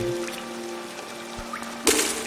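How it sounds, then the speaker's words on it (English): Water splashing in the video game Hollow Knight, a short burst of bright splashy noise late in the moment, layered over steady ambient game music and hum. "Aw, he splashes the waters with his nails."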